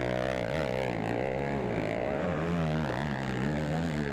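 A Yamaha 450 ATV engine is held at full throttle during a GNCC cross-country race, a loud, sustained high-revving drone with wavering pitch that runs for the whole stretch without a break.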